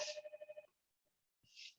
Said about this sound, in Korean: 전화가 왔는데 지금은 못 듣고